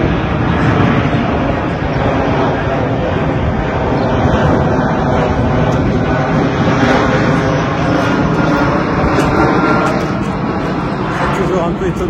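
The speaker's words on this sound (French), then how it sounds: "Un peu étonnant ce survol très proche en fait du centre-ville." A loud, steady airplane engine roar fills the whole stretch, a low-flying aircraft droning over Nantes city centre without letting up.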